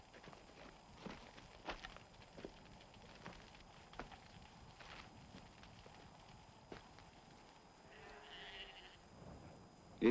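Sheep bleat now and then on open summer moorland grazing in North Uist, faint and distant, with scattered thumps and rustles in a quiet outdoor setting.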